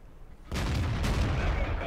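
A heavy tank cannon firing in World of Tanks, a single loud blast that breaks from quiet and rumbles on into a sustained roar.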